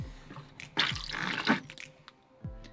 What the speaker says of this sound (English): I put some water in this thing and then should be able to flush it, which we did.